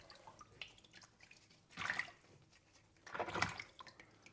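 Water splashes over a painted cap as blue paint is rinsed away, two short wet bursts of rinsing and dripping close by against a quiet background, with no talking.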